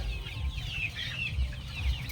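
Hens with colds clucking softly in a low, continuous murmur, with occasional higher calls rising over a steady background rumble.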